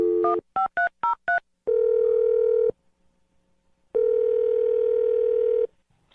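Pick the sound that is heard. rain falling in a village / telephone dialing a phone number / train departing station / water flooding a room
telephone dialing a phone number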